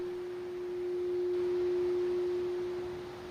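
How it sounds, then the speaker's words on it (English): Crystal singing bowls give a single sustained, pure resonant tone that swells gently in the middle and fades away near the end, heard alone over a faint hiss. "Deep, resonant tones begin to bloom in the air, crystal singing bowls."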